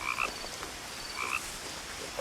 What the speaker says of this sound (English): Shut up, frog.